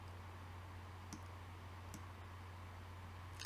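Sparse computer mouse clicks while a motif is drawn in EQ8 quilt design software: three faint, isolated ticks spaced about a second apart over a steady low electrical hum, with no talking.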